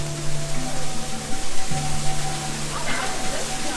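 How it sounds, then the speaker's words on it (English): Water rushes over rocks in a waterfall beside a park trail at Animal Kingdom on a rainy day, a steady broadband hiss that stays constant throughout, with faint tonal hums in the background. "A waterfall."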